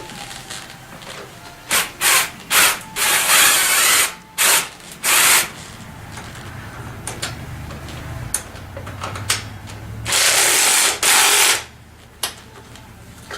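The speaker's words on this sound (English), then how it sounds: "I'm going to cheat a little bit because I'm using a ratchet" A ratchet tightening bolts while a Tao Tao ATM50A scooter is assembled, heard as loud, close bursts of rapid clicking and rasping strokes with short pauses between them, alone with no talking.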